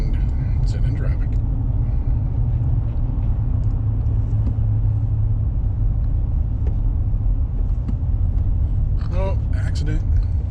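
A Toyota drives through traffic around Albuquerque, its engine and road noise a loud, steady rumble from inside the vehicle throughout, with a few faint clicks and rattles and someone speaking occasionally.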